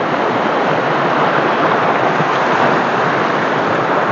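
Strong rushing water near an abandoned house in the Philippines, a loud, steady broadband roar that holds unbroken throughout with no pauses or voices.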